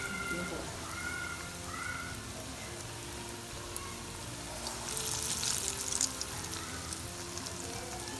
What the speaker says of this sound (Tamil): நாங்கள் நல்லெண்ணெயிலாம் வறுத்துட்ருக்கோம்.